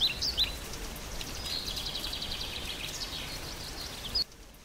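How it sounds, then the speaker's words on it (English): Soft, steady rain hiss from the Noisio ambient sound app on a Mac, with a few high bird chirps scattered over it, quiet and even before cutting off abruptly near the end. "Let's do some rain with the birds chirping."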